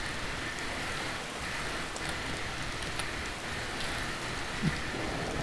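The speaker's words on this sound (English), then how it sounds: "Come on, rain, stop." Steady rain falls in Stormworks, a dense even hiss of drops on surfaces with no pauses and no voices.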